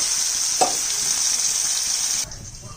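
Kakrol (spiny gourd) frying in a pan gives off a steady bright sizzle with one brief scrape partway through, then the sizzle drops sharply near the end.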